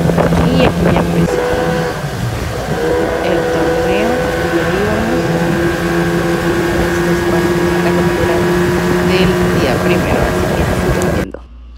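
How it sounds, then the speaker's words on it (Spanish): Motorboats idle and run on a river before the starting flag of a sport-fishing tournament, a steady close engine drone with overlapping hums and wind buffeting the microphone, people talking faintly over it until it cuts off near the end. "aquí pues ya vemos a todas las lanchas ya en el río, esperando el banderazo"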